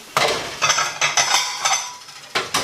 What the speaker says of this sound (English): now we're going to dish this up like this